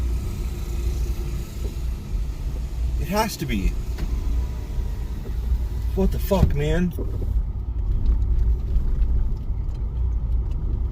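A bus engine's low, steady rumble runs loudly throughout, with a voice speaking briefly over it.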